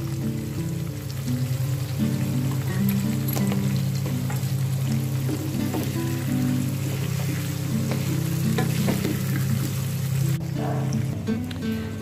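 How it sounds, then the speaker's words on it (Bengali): Pumpkin slices frying in a pan with salt and turmeric, a steady low sizzle and crackle running throughout with occasional clinks, moderately loud and continuous. "এবারে কুমড়োগুলোকে চাকি চাকি করে একটু ভেজে তুলবো"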